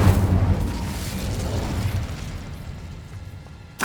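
Incendio fire spell from the Hogwarts Legacy video game, heard as a loud, rumbling blast of flame and boom that slowly fades, then a fresh burst right at the end.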